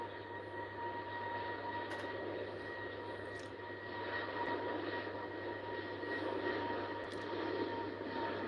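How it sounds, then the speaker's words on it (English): An SAS Airbus A320 bound for Copenhagen rolls for takeoff at Heathrow, a steady broad jet-engine roar with a low hum that swells slightly, heard at a distance amid airport background. "The next plane getting ready to take off is a SAS one, Swedish Airlines. It's an A320"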